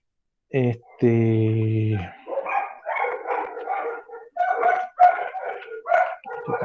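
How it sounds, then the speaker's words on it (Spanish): Dogs bark and yelp up close in a short loud burst, followed by a stretch of lower, talk-like sound. "Están los perritos, ¿no?"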